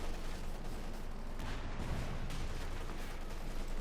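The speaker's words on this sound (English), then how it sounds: "Lots of grenades, lots of explosions." Grenades and explosions from the World War II strategy game Company of Heroes 2, a continuous rumbling barrage of blasts and gunfire mixed together, dense and steady throughout with no clear gaps.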